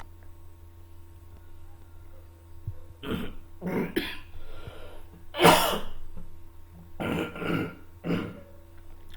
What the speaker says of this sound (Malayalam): അപ്പോൾ അതിൻ്റെ പേരിൽ ചുമ മാറിയിട്ടില്ല